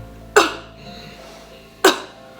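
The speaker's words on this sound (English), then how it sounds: "The best thing to do if you feel like you need to clear your throat is to do a" Two short, sharp coughs, about a second and a half apart, close and clear against a quiet background.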